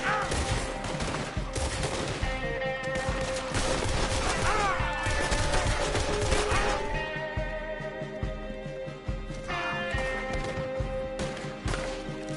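Dense gunfire rattles nearly nonstop in a Red Dead Redemption 2 shootout, with rapid overlapping shots, cracks and impacts, loud and close, and brief shouted voices in the mix.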